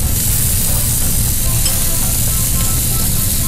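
Lemongrass hits a hot pan for bun mam and sizzles loudly, a dense, steady hiss of frying oil that stays even for a few seconds with no voices over it.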